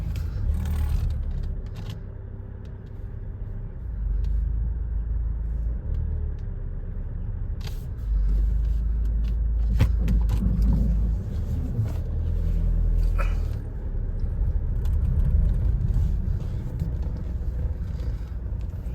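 A Ford Kuga with overheated, disabled all-wheel drive strains in first gear with a skidding rear wheel. A continuous low engine rumble runs throughout, with occasional scraping and clunking noises.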